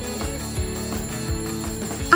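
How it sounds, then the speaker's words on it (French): A ringing alarm sounds as part of a prank, going off at 5 a.m. from inside a drawer or a plant, heard as a steady, repeating electronic ring with regular pulses and a brief louder burst at the end. "Une autre alarme."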